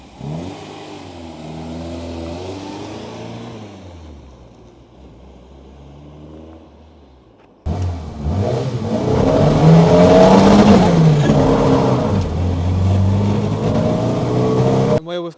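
A Mark II Ford Escort with a 2-litre Pinto engine revs loudly and close by, its engine note rising and falling in repeated pulls, with voices talking over it in the first half.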